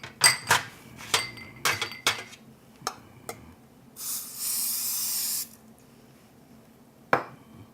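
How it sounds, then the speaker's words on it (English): Several sharp clinks of metal against dishes, then a steady hiss of cooking spray sprayed into baking cups lasting about a second and a half, ending with one more clink. "Now the other thing we need to do is to spray your cups."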